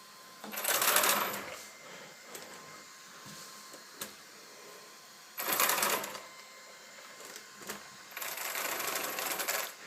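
A Traxxas Velineon VXL-3s RC car motor with a judder fault buzzes in short rough bursts, whining and cutting out between pulses with quiet gaps, the longest burst at the end, close by.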